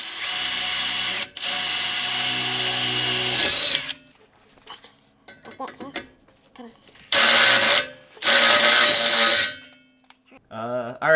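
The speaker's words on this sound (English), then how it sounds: "let's get into drilling." A power drill whirs loudly in two long bursts with a pause between, drilling a half-inch hole for an exhaust flame kit on a 2005 Ford Mustang GT, then quieter handling noises before a final short burst of drilling.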